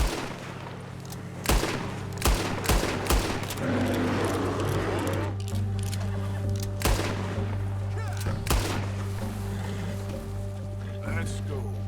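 Several loud gunshots fired at a bear in the Red Dead Redemption video game, sharp cracks spaced irregularly over a steady game ambience with voices talking.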